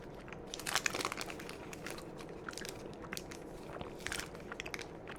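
Chewing a candy bar with nougat, pecans and caramel, close-up wet crunches and sticky mastication sounds in irregular bursts, fairly quiet with no talking.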